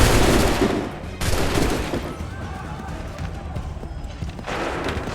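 Musket volleys fire in Assassin's Creed III, loud repeated gunfire bursts ringing over a battlefield din, with commanders' shouted orders and a horse faintly present.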